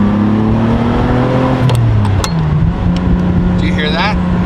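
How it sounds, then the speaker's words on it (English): A Ferrari engine revs close up during a downshift through a gated shifter, its drone sliding in pitch while a few sharp clicks snap through, with speech-like sounds mixed in. "Like that gated shifter noise, dude."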